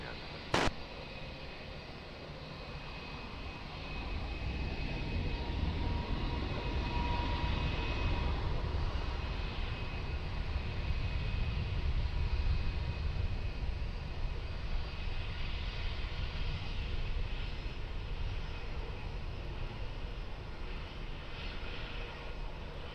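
Jet airliner taking off from runway 20 at Lisbon Airport, a steady roar that swells after a few seconds and holds loud and sustained, heard from a distance outdoors.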